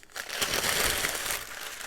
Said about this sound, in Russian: застелю, наверное, этой бумагой